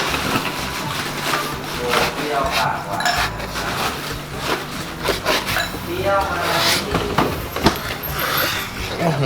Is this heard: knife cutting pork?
yes